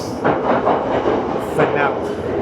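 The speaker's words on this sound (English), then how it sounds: "This is the London Underground, which is quite empty" Rumbling London Underground train running through a quiet, nearly empty station or carriage, a steady low roar with rhythmic rattling and brief hissing bursts, with someone talking over it.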